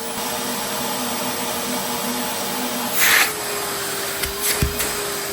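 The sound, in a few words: Numatic George wet and dry vacuum cleaner running on water lift gauge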